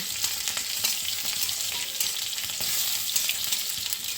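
Mustard greens fry in a pan with a steady, dense sizzle and occasional stirring scrapes, loud and continuous throughout with no talk.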